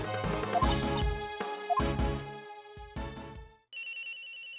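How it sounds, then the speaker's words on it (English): Phone ringing in the video game Ace Attorney Investigations 2, a loud tonal electronic ringtone repeating in short rhythmic bursts, then switching to a brighter steady chime, with no talking. "Phone call?"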